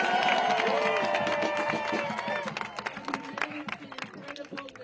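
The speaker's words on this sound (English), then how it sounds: "Big round of applause for Bob, who made enough buttons for almost" A crowd at an outdoor renewable energy march breaks into applause, loud and sustained at first, then thinning into scattered claps and cheers. A voice speaks over it.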